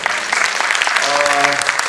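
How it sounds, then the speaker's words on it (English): Applause from an audience after a Pushpanjali dance performance at a classical dance event, a dense, steady clatter of many hands with a short sustained musical tone rising beneath it toward the end. "So again, a big round of applause."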